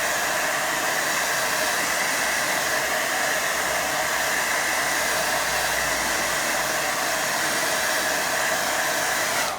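A hair dryer blows over a watercolour painting, a loud, steady whooshing roar held without a break for nearly ten seconds before it switches off; no voices.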